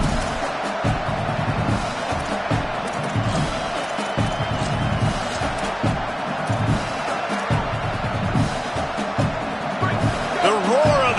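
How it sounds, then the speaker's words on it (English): A stadium crowd roars at a football game against Michigan, a dense sustained wash of cheering and noise filling the whole stretch, with a commentator talking over it. "The roar of the crowd trying to fuel this defense to keep them pinned in their own end."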